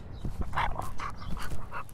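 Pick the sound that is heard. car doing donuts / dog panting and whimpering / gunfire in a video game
dog panting and whimpering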